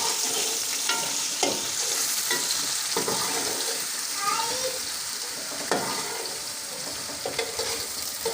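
Ginger and garlic paste frying in a hot pan, a steady sizzle broken by the scrape and clink of stirring throughout.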